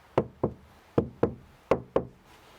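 Knocking on the back panel of a 1982 Dodge D50 pickup cab during sound deadening work: six hollow knocks in three quick pairs, close and fairly loud, with nothing else audible.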